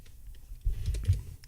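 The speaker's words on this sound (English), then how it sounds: "You might hear a lot more keyboard noise now because I will start using my keyboard shortcuts a bit more." Computer keyboard keys are tapped a few times in quick, soft clicks close by, as in entering shortcuts during digital illustration work, faint and low with no talking.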